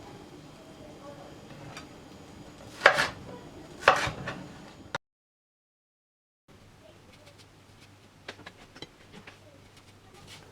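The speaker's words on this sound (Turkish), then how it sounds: "bu şekilde patlıcana yakışacak şekilde doğruyoruz" Knife chopping eggplant on a board, with a couple of sharp knocks at the start, then a short silence and softer scattered cuts.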